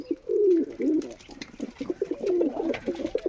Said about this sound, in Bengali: এই সব কবুতরগুলো খাচ্ছে।